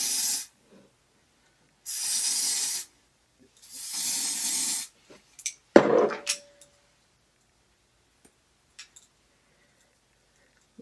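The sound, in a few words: spraying hair spray on a wig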